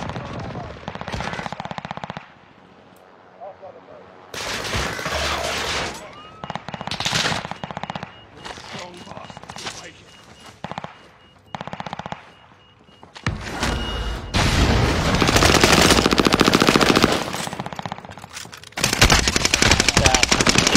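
Machine gun fire in Call of Duty: Warzone comes in sharp rapid bursts separated by short pauses, loud and close, with heavier sustained strings of shots toward the end.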